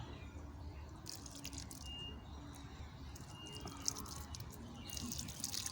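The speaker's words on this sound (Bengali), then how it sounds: "তাহলে এই দিচ্ছি জল।" Water is poured onto dragon fruit plants on a farm plot, making a faint, quiet trickle and scattered drips with soft background hiss and a single small knock.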